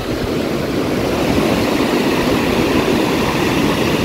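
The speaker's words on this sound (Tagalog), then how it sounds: "medyo malakas yung alon" Strong ocean waves roll in at Umbrella Rock in Agno, a steady loud broadband roar of surf and wind-blown water with no break, close and continuous throughout.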